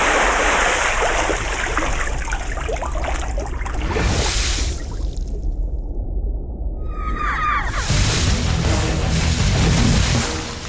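Water thrown and splashing, a loud broad rushing wash that cuts off abruptly into near silence, then returns as splashing spray and continues to the end.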